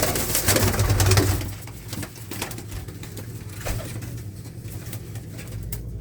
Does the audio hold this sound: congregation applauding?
no